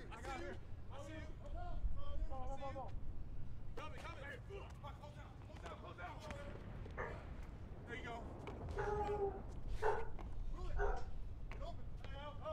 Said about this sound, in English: These dogs have stopped barking.